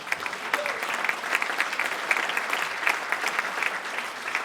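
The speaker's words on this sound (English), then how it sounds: "clap for that woman." An audience at a Trinity Hall of Fame induction speech breaks into steady, dense applause that fills the room evenly for several seconds, with a faint voice underneath.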